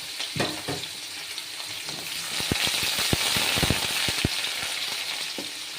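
Whole spices, cardamom and cinnamon, with a little onion sizzle steadily in hot oil for a fish curry, with a run of sharp pops and crackles in the middle, close and alone.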